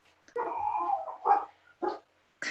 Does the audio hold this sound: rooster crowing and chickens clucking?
no